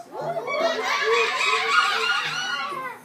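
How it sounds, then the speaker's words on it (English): Birds squawk and chatter in overlapping calls, shrill and close, for a few seconds. "sounds of squawking birds and howling monkeys."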